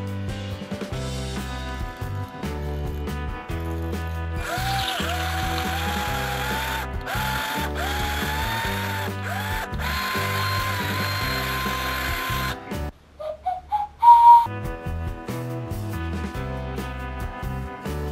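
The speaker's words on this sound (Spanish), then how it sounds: "cogemos nuestra broca de pala y la taladramos hasta el fondo con mucho cuidado" A drill with a spade bit bores through a carrot, giving rapid ratcheting, grinding mechanical bursts that come and go, then a short pause and a few sharper whirs.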